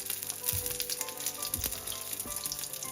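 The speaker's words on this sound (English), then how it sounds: "we're just going to get some color on this and cook the garlic a little bit" Farmer's market garlic cooks in a pan, giving a faint, quiet sizzle with light crackles and a few soft pops.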